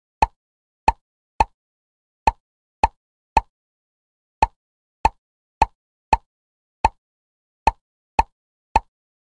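Fourteen short, crisp pops sound in an irregular sequence as bubbles burst when tapped in a kids' number learning game, each one brief and isolated against silence.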